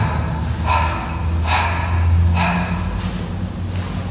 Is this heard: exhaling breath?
yes